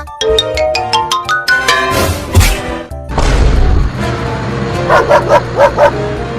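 A dog barks repeatedly in quick bursts, with yips and whimpering tones, over busy music and comic sound effects in a cartoon scene. The barks come loud and rhythmic toward the end.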